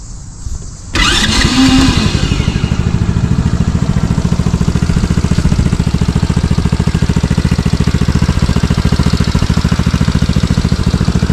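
A 125cc mini jeep engine cranks over and catches, then keeps running at a steady, loud idle right up close, with no talking.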